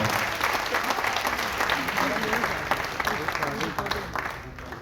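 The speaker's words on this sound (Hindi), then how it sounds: "बड़ा जोरदार तालियां एक बार।" An audience at a Hindi poetry gathering in Mumbai applauds, with dense, steady clapping that carries on throughout and fades slightly at the end, with some voices mixed in.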